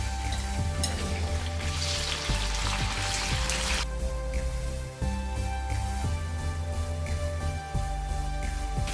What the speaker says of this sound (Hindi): अभी हम इसमें गोश्त को थोड़ा सा फ्राई कर लेंगे इसी ऑयल में जिसमें हमने गाजर और किशमिश को किया था